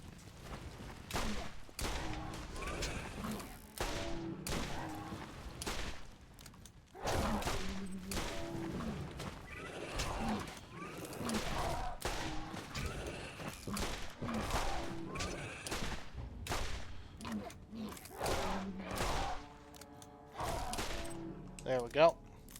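Rapid bursts of gunfire from an oversized gun in the Borderlands video game, dense volleys repeating through the whole stretch over game music and effects, loud and close.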